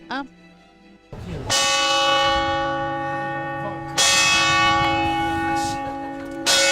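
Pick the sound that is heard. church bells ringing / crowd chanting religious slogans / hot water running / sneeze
church bells ringing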